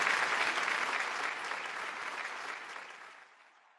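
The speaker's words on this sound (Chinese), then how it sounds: "那么掌声有请。" Audience applause at a Suzhou Pingtan storytelling performance: a dense, steady clatter of many hands clapping that gradually thins and fades away over a few seconds.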